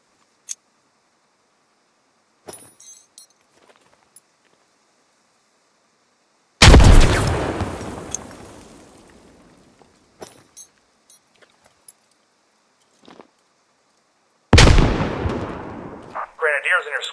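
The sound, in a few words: grenades and 40mm grenade launcher fire in video game Squad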